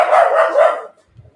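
A Chihuahua mix barks twice in quick succession, close and fairly loud, followed by a faint low thump and quiet.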